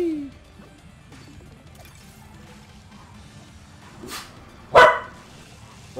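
A dog barks in the Grapple Dog video game, a single sharp yelp near the end standing out over quiet game background sound.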